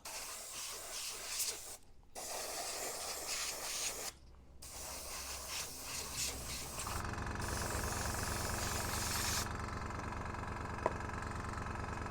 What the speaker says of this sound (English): Just testing the airbrush on my little cardboard paint booth.